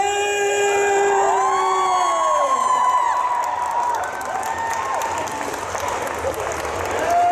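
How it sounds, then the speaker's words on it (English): A Comic Con Brussels audience greets Emilie de Raven with loud sustained applause, high whoops and cheering shouts rising over the continuous clapping. "Can I feel the happiness, the joy and the applause?"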